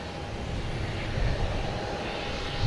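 An Aer Lingus jet airliner at Boston Logan Airport roars with a steady, broad engine rumble, heard from a distance outdoors and holding constant throughout without talking.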